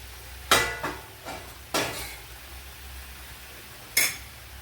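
Spoon stirring pieces of sweet potato with jaggery in a pan, a handful of separate scrapes and clinks against the metal, moderately close, with quiet gaps between and no voices.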